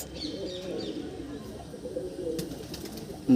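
A female pigeon gives soft, rolling coos at low volume over a quiet background, ending with a brief sharp knock.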